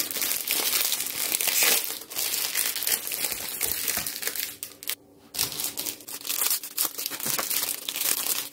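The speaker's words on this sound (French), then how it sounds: "je viens donc ouvrir mes Kinder Bueno" Kinder Bueno chocolate bar wrappers being opened, a steady run of close, loud plastic crinkling and crumpling with brief tearing, pausing once near the middle before continuing.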